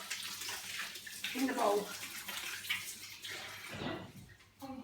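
Hands washed under a running kitchen tap before mixing doughnut dough, a steady close splash of water with rubbing and splashing bursts, a person briefly speaking over it.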